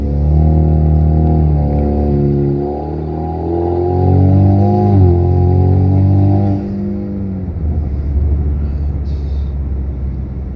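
A 2017 turbo four-cylinder Camaro drives on the street, its engine droning loudly and close up, rising in pitch through a pull, then dropping back and settling into a lower rumble near the end.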